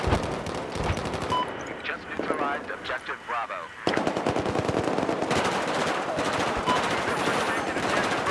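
Battlefield 4 combat erupts with heavy automatic gunfire, dense rapid bursts of machine-gun shots near and far, briefly thinning before a loud, sustained volley resumes, with someone talking over the chaos.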